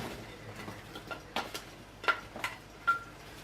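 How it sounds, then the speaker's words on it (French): Apples being stirred in melted butter in a frying pan, with soft scrapes and several light utensil clinks against the pan at irregular intervals, close and fairly quiet. "Vous remuez de façon à enrober vos pommes avec le beurre"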